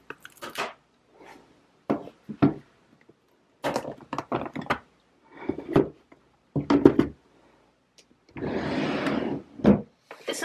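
Wooden makeup storage drawers are handled at close range: a series of sharp knocks, thunks and sliding rubs, then a longer scraping slide as a drawer is pulled open, with no talk.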